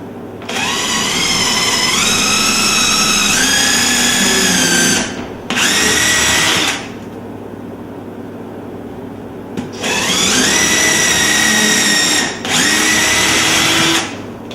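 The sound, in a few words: power drill drilling holes for cabinet hardware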